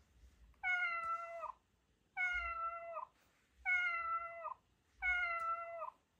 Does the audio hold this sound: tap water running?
no